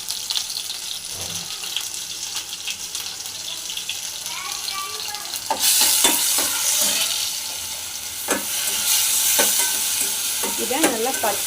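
Ground green chili paste fries and is stirred in a pan, giving a continuous wet sizzle with scraping and spatula clatter that grows louder and busier partway through.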